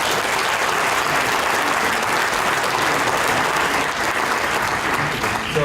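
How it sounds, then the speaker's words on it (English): Dense, loud applause from a large graduation ceremony audience celebrating the class of 2018 at Carnegie Mellon University Africa, a sustained roar of clapping that holds level throughout. "So one more round of applause for the class of 2018."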